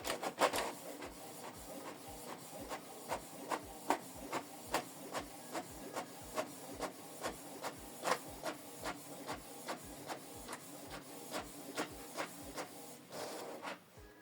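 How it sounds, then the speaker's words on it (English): A Canon Pixma TS8750 inkjet printer feeds a page back in to print its second side, a quiet, even run of regular mechanical clicks and whirring print-head passes, then a louder burst of paper movement at the end. "So it's going back inside to print the second page."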